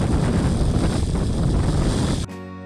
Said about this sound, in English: It was quite windy too.